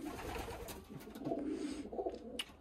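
Pigeons coo softly in a racing loft, birds recently recovered from illness, a low, faint burbling that rolls on steadily with no voices.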